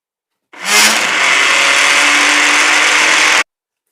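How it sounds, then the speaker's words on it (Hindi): A butter churning machine starts abruptly and runs with a steady, loud whirring hum and a faint rising whine, then cuts off sharply. "ये इसके बाद मशीन को चलाएं।"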